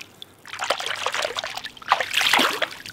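A good-sized crappie slipping back into pond water, giving a short run of trickling, splashing water sounds close by over about three seconds.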